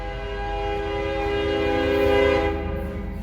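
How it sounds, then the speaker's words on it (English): A loud train horn blares in long sustained chords close by, rising slightly and holding steady with a low rumbling rail undertone, heard early in the morning near a parked 1969 first-generation Ford Bronco. "I thought you said that train rarely passes through here at 5:30 in the morning"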